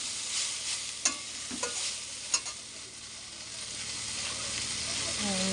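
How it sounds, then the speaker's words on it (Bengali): Raw rice is stirred and dry-fried in a pan, a soft continuous sizzle and hiss with a few sharp scrapes and clicks of the spoon early on, close and fairly quiet. "চালটা দিয়ে নাড়তে হবে, অনেকক্ষণভাবে নাড়তে হবে।"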